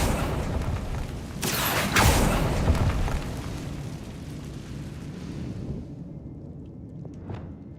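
A Confringo fire spell bursts in Hogwarts Legacy, a heavy booming blast with sharp cracks near the start, followed by a rumbling roar that fades into a quieter tail with one last faint thud.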